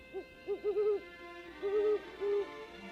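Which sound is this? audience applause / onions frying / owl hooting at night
owl hooting at night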